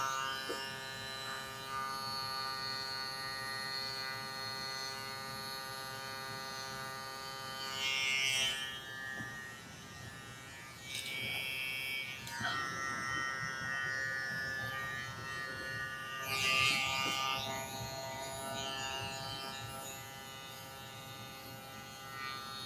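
Electric hair clippers trimming and shaping afro hair, giving a steady, fairly quiet mechanical buzz that runs continuously, with a few brief louder scratchy passes as the blades move through the hair.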